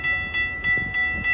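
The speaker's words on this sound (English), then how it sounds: "Yep, here's a train." A GO Transit MP40 locomotive, number 605, rolls past Centennial GO Station in Markham. Steady tonal whine and rhythmic wheel clatter repeat about every 0.3 seconds, fairly loud and close, with no talking.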